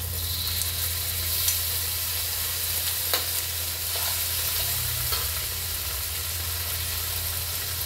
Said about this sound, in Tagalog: Prito natin.